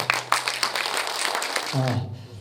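Audience applause welcoming a professor of Handong University to the stage at a forum on making the Homi Peninsula a cultural tourism special zone. Dense, steady clapping fills the room, then a voice begins speaking near the end.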